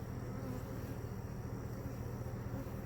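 Honey bees buzzing around an open hive during fall splits, a steady low droning hum from many insects close by, continuous and even without pauses, and no talking over it.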